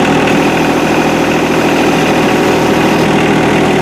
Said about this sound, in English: I just got this tractor.